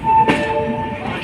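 A train at Bhusawal railway station in India, a close, loud rail sound with a sharp burst near the start, then a steady rumble and a faint sustained horn-like tone underneath.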